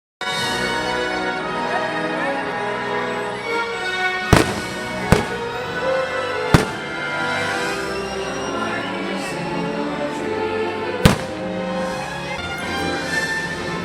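Disneyland fireworks show on a rainy night near Small World, with loud sharp bangs and crackling bursts over a steady bed of show music and crowd ambience.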